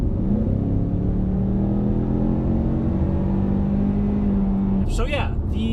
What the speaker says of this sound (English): So yeah, the engine in this car is something that I like.